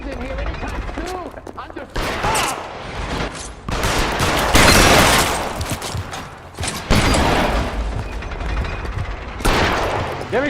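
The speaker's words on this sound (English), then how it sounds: "Keep shooting. I want him dead." Heavy gunfire in a video game shootout from L.A. Noire, with bursts of overlapping shots and rattling volleys that surge and ease in waves, loud and close, mixed with mechanical clatter and occasional shouting voices.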